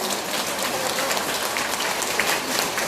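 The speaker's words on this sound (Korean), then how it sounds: "우리 박수 한번 칩시다" A lecture audience claps together on the speaker's prompt, a dense, even patter of hands close and fairly loud, steady throughout with no voices over it.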